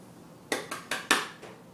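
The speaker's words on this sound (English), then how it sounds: "I'll just stir to combine that." A spoon stirring flour into buttermilk spoonbread batter in a bowl, four or five quick, close scraping strokes against the bowl in a short burst.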